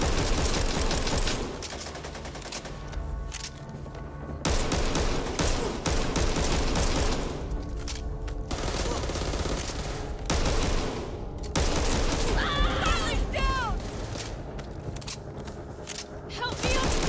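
Dense bursts of gunfire from the co-op zombie shooter Back 4 Blood roar in loud waves, pausing briefly between volleys, with voices talking over the shooting.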